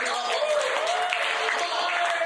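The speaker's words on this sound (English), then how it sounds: "If you believe it, give me a clap." Church congregation clapping, a dense steady wash of applause that runs the whole moment, with a sustained organ or keyboard tone sitting underneath.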